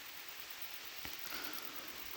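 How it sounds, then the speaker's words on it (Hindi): Heavy rain falls on the thick canopy of a forest with very tall trees, producing a steady, faint, even hiss with a few soft drips and rustles and no voices. "बारिश आ गई है और बहुत तेज़ वाली बारिश है"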